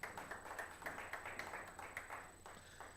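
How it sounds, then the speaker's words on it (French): A church congregation claps to acclaim the Lord during a Sunday service, a steady run of moderately quiet, rhythmic handclaps from many people in a reverberant hall, fading slightly toward the end. "On peut acclamer le Seigneur"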